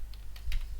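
A few quick keystrokes tapped on a computer keyboard while setting up a code editor, light clicky taps close by, alone and brief.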